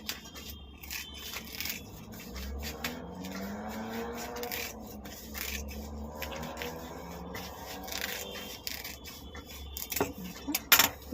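Scissors cut through cloth from an old top being made into a bag, a steady rubbing, scraping snip close by, with a few sharper clicks near the end and no talk.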